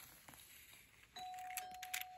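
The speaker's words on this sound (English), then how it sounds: "someone just rang my doorbell" A doorbell rings once in a house, a faint steady electronic tone sustained after a soft onset, with light clicks and rustles around it.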